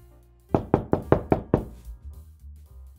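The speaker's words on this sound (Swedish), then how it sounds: "knackar på nästa dörr" Six firm knocks on an apartment door in quick, even succession, close and loud, followed by faint low room noise.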